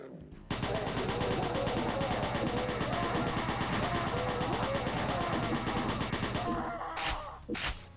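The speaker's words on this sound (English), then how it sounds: "And we also have the little machine gun" Super shotgun blasts and rapid machine gun fire from Doom 2 rattle on in a dense, continuous barrage for several seconds, then give way to a few separate sharp shots near the end.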